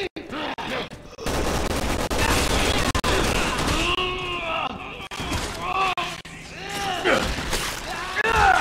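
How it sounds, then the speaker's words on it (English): Gunfire and loud combat noise from the video game Resident Evil 6 fill the scene with dense rapid shooting and crashes, while excited players talk and shout over it almost throughout. "Shooting it a lot!"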